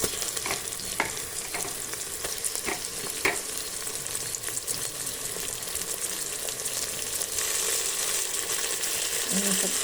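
Mutton frying in a pan with cut green chilies and onion, a dense steady sizzle with occasional scraping and stirring clicks, close up and continuous, swelling slightly toward the end.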